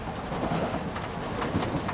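A passenger train runs steadily on its rails, giving a continuous close rumble with faint rhythmic clatter from the carriage throughout, and no voices over it.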